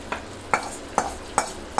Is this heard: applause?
no